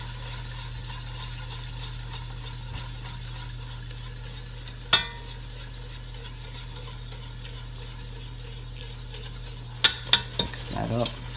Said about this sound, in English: now the idea here is to keep whisking and not let lumps form